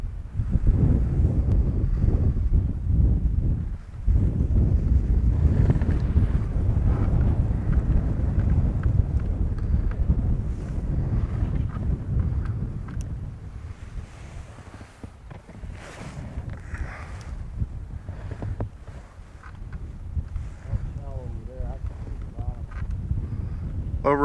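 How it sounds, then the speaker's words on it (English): Steady wind rushing and buffeting across an outdoor microphone during a fishing outing, loud and continuous with a low rumble, easing somewhat in the middle and rising again toward the end, with brief voices underneath. "And the wind is back."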